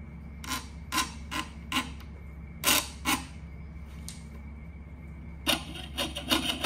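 A hand saw fitted with a slightly finer blade cuts through metal in short, separate bursts of rasping strokes, with brief pauses between groups against a steady low background hum.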